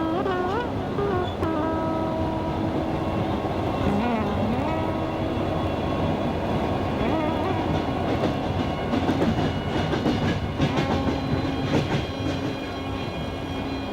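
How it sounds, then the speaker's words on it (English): A passenger train bound for Bukhara rolls along with a continuous rumbling drone, overlaid by irregular clicks and clacks from the rails that grow busier toward the end. "We're on a train going to Bukhara, a very important city in our story, about an hour south of it."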